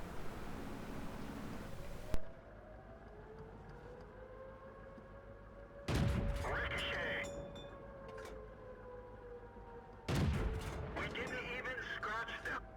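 Heavy tank cannon blasts in World of Tanks, three loud booming shots a few seconds apart, each followed by a long ringing roar, over steady engine hum and game tones.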